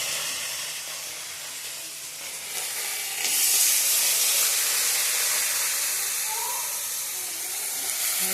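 Potatoes dropped into hot oil in a kadai give a continuous hissing sizzle that swells noticeably partway through and then holds steady, close up with no voices.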